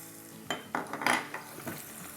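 Ginger and garlic paste fries with chana dal in a pan, a soft sizzle under several scraping stirs of a spoon, close and fairly quiet, with no talking.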